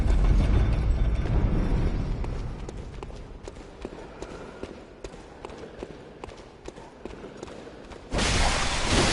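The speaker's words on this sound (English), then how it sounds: "the main passage to our front will be leading up, and then we have the elevator up here" An elevator in the video game Bloodborne runs with a rolling mechanical rumble and a steady series of ratcheting clicks and creaks, ending in a sudden loud rush of noise.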